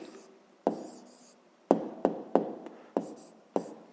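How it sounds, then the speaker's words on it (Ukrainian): Pen strokes writing down an answer to a fifth-grade maths exercise by hand, a quiet run of short scratchy taps and strokes at an uneven pace, close by with no talking. "Записуємо відповідь, пишемо відповідь"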